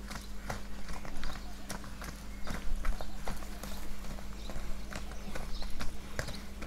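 Hooves pounding quickly as purebred Kyrgyz horses gallop past, a rhythmic drumming over a steady low hum, with faint voices in the background.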